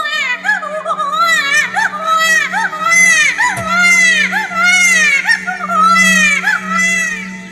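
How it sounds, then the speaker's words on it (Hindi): A baby cries and whimpers in repeated wailing bursts deep in a dense forest, loud and close, with a steady low hum beneath and no other voices. "ऐसे घने जंगल में एक बच्चा रो रही है।"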